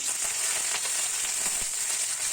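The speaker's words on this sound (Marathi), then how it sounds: "वरणासाठी तडका तयार होत आहे" Mustard seeds, green chillies and chopped garlic sizzle in hot oil as a tempering for dal, a steady, bright crackling hiss with faint scattered pops, close and continuous.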